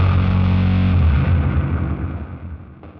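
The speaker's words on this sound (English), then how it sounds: "when you put a reverb into distortion, what happens is then the distortion struggles with the tail of the reverb." A thick, distorted bass guitar tone, reverb fed into distortion, with a smeared, washy reverb tail that decays and breaks up as it fades, no voices.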